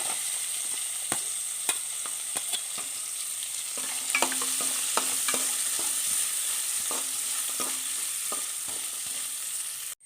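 Coconut pieces, ginger and garlic fry in a pan, sizzling steadily throughout while a utensil stirs with scattered scraping clicks; no voices.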